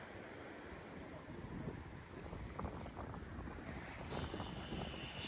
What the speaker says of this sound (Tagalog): Malalakas ang alon.